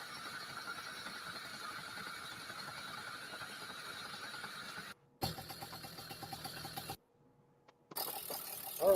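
A newly rebuilt engine, top and bottom halves freshly assembled, gives off a steady mechanical rattle and clatter that cuts out twice briefly before resuming, close and moderately loud with no talking.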